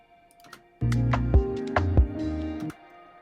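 A short hi-hat fill sits inside a mellow produced beat, quick ticking hits riding over a warm, low sustained chord for about two seconds, with no voice.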